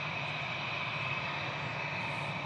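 A Finnair A320 on its takeoff roll at Manchester Airport, a steady loud engine roar with a high whine, continuous and unbroken throughout, heard from a distance.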